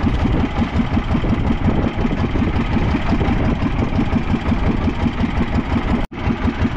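A boat engine drones loudly and steadily with a rapid chugging pulse, running close and uninterrupted apart from a brief cut near the end.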